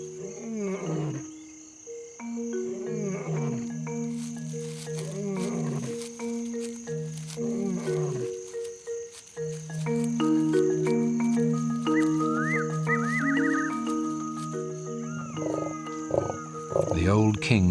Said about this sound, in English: she meets her adult daughter, who also heard the male lion's roars